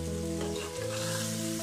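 Marinated chicken with garlic, ginger-garlic paste, turmeric and salt frying in masala for pressure cooker biryani, giving a close, steady sizzle with faint stirring and no talk.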